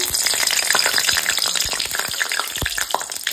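Dried red chillies crackle and sputter in hot mustard oil for a prawn and jute-leaf curry, a close, busy frying sizzle with popping bursts throughout.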